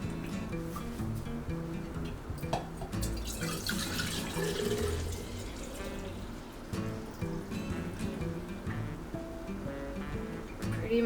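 Homemade yogurt milk being poured into jars in a kitchen, a soft, continuous liquid trickle and splash heard close up alongside light clinks and handling sounds.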